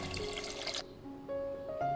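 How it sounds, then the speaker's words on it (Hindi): Water poured into a pressure cooker, about two litres, a close splashing gush that cuts off partway, followed by faint ringing tones and low clatter from the pot. "इसमें हम तकरीबन 2 लीटर पानी डालेंगे, जिसमें हमने यखनी बनानी है।"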